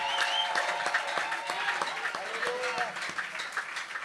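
A church congregation at a French-language Sunday healing service claps and cheers in sustained, dense applause, loud and close, with voices calling out among the clapping.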